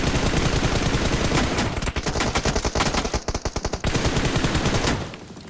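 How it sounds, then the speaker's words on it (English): Heavy automatic gunfire in a competitive esports shooter match, dense rapid bursts of shots that thin into distinct rattling volleys, loud and continuous with no commentary over it. "Insane amount of gunfire, but using the tree as the perfect cover."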